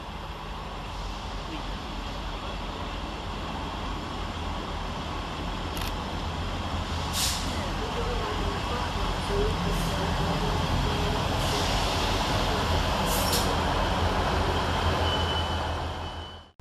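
ScotRail Class 158 diesel unit 158723 arriving at Edinburgh Gateway station, a steady rumbling engine drone with a few sharp metallic squeals and clicks, and a voice speaking over it.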